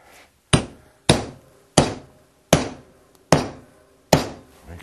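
A steel spur drive center is hammered into a wood blank for lathe turning, with six sharp, evenly spaced blows about half a second apart, each ringing briefly, close and loud, with no talking.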